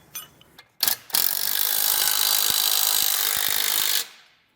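A socket tool works on base plate mounting hardware on a 2019 Jeep, with a few clicks and knocks followed by a sustained loud, steady mechanical whirring that cuts off abruptly, heard close with no talking.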